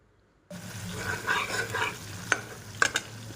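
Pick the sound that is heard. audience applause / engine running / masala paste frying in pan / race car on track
masala paste frying in pan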